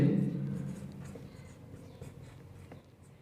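Chalk or marker scratching across a board during a ninth-grade geometry lesson on circle theorems, short scraping strokes heard fairly close, with a teacher's voice speaking over them.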